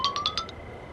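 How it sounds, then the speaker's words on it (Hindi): A phone ringtone plays a quick run of bright, chiming electronic notes, about five in a row, then fades. "टुअल मैम का फोन आ रहा है।"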